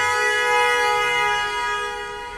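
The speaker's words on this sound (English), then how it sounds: "Was that a strategic honk?" A sustained, loud car horn blast in city traffic, a steady harmonic blare lasting a couple of seconds and fading slightly toward the end.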